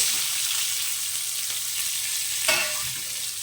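Cubed onions fry in a pan with a steady close sizzle, a sharper clack or stir near the middle, and no one talking.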